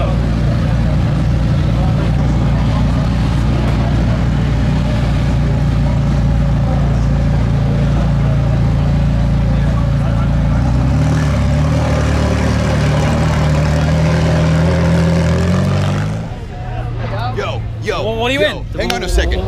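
A McLaren 720S climbs a hill on tarmac, its engine a steady, loud, low drone with shifting tone that eases off near the end, while someone talks over it throughout.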